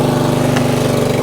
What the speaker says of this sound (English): This is a brand new mower with a Briggs & Stratton 163cc engine.